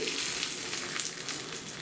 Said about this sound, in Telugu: ఈ పెట్టుకున్న పోపుని ఇందులో వేసుకోవాలండి